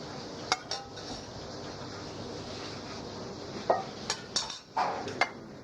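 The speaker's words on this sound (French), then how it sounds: "The cover is removed and the filet taken out." A metal pot cover lifted off and a cooked John Dory (Saint-Pierre) fish fillet taken out in a kitchen, a few scattered clinks and light metallic knocks over quiet background hiss, sparse and irregular.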